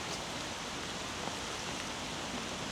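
Steady rain shower falling on ice outdoors, an even, dense hiss of drops that stays constant and fairly close throughout, with no voices.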